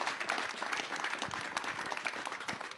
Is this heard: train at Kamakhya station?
no